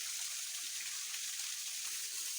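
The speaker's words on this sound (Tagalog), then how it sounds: "ito yung falls namin, maliit lang" A small waterfall after rain gives a steady, even rush of falling water, a constant hiss with no breaks, moderately loud and heard alone.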